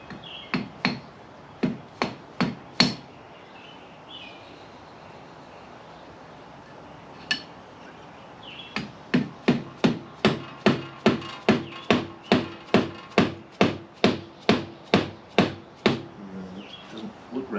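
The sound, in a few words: tapping a JB-welded engine part in with a hammer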